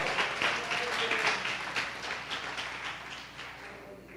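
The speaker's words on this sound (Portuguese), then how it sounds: "aplauda o Senhor com o seu melhor." Church congregation applauding during a service, a broad patter of many hands clapping at moderate distance, strongest at the start and gradually thinning and fading out.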